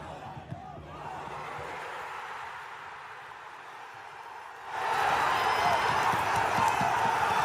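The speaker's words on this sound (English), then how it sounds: "listen to the freaking crowd pop on this" A football crowd in Macclesfield roars after the captain, Paul Dawson, scores. A distant murmuring stadium noise swells into a loud sustained cheer in the final seconds.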